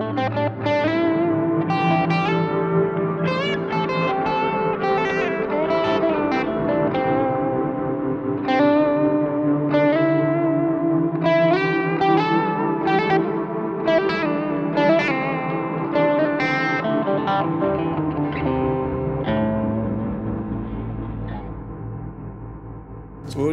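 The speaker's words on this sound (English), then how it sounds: "it's a delay, so it spreads what you're playing" An electric guitar plays a melodic lead line through a delay and reverb plugin, each note trailing into repeating echoes and a wide reverberant wash, continuous and fairly loud.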